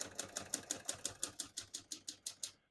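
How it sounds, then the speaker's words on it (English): Keys strike steadily on a 1979 Hermes 3000 portable typewriter, about fourteen crisp, evenly spaced clacks at a brisk rhythm. They sound close but fairly quiet, with no talk. "We're going to keep that on single for now and finish typing."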